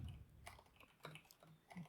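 Quiet, close keystrokes on a mechanical keyboard: a few irregular clicks and taps spaced through a short burst of typing, with no talking.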